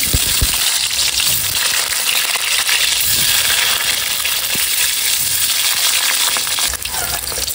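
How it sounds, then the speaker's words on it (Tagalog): Hotdogs frying in preheated cooking oil at a family picnic, a steady loud crackling sizzle with faint popping and scraping, continuous throughout with no talk. "ako po ay magpiprito na po ng mga hotdog. Ako po ay nakapagpainit na po ng mantika"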